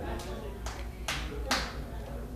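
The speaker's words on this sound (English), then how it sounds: "You shouldn't clap for that" A small audience at a tavern comedy showcase gives a few scattered claps in short separate bursts, with a person talking underneath.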